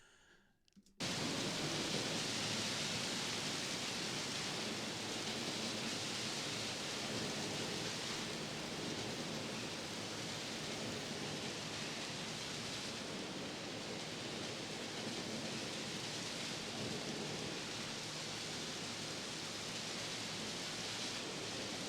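Heavy rain closing out Slayer's Raining Blood, a dense, steady hiss that begins abruptly after a second and continues evenly and fairly loud with no voices.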